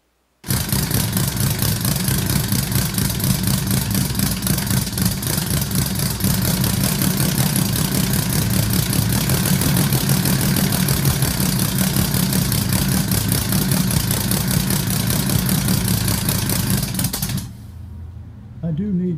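A homemade air-powered six-cylinder engine runs steadily, with a rapid, even mechanical clatter that is loud and close for about seventeen seconds before it cuts off.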